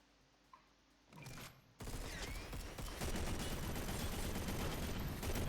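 Automatic weapon gunfire in the top-down shooter SYNTHETIK 2, a rapid continuous burst of shots starting after a brief lead-in and building into a sustained, dense stream of fire that runs to the end.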